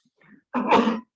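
A short, soft throaty catch followed by one loud, explosive sneeze, close and alone in a quiet hearing room.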